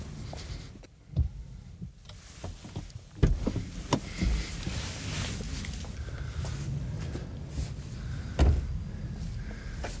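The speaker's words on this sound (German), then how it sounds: "ich kann die Wischer in diese obere Position fahren" Mercedes-Benz windscreen wipers driven up into the raised service position, a soft electric motor whir with a few mechanical clicks and thumps from the wiper arms, heard from nearby against a steady background hum.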